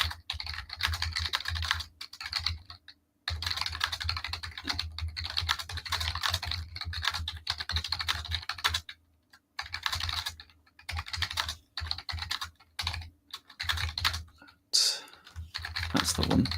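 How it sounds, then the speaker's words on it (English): Computer keyboard typing in bursts of rapid clicking keystrokes, broken by short pauses, close and fairly clear, with a voice speaking now and then beneath it. "I just need to type something in the meantime."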